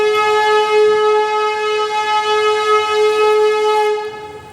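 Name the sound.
Nanded Santragachi SF Express train departing Raipur Junction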